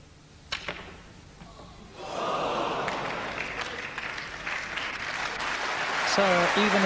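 Applause swells and holds from an audience at the 1984 Benson & Hedges Masters snooker semi-final, Jimmy White against Kirk Stevens, greeting a 113 break; dense steady clapping after a couple of sharp knocks and faint talk.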